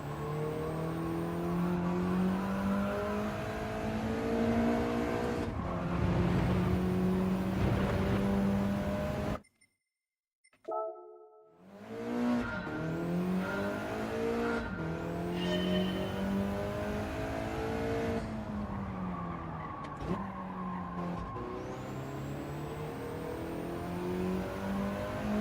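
A race car in the Gran Turismo 7 racing game revs through its gears, its engine note climbing and dropping repeatedly, with a brief silent gap midway and a faint tire squeal.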